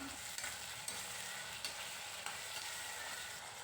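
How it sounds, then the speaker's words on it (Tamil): Onions and tomatoes sauté in a pan for a vendakkai kuzhambu, giving a steady, dense sizzle with faint stirring clicks throughout, close and continuous with no voices. "தக்காளி வந்து ஒரு ரெண்டு நிமிஷத்துக்கு நல்லா வந்து வதங்கட்டும்"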